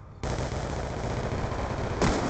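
Sustained automatic gunfire rattles continuously in a video game, a dense, loud burst running almost unbroken for a couple of seconds with a slight surge near the end.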